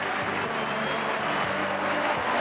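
Football crowd at a 2001 AFL qualifying final between Brisbane and Port Adelaide applauding and cheering, a dense, steady wash of clapping and roar that fills the stadium without pause.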